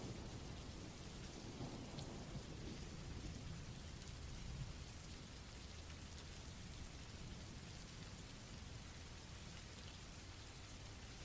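Steady, dense rain falls throughout, with a deep low rumble of thunder rolling underneath, a constant even wash at moderate distance.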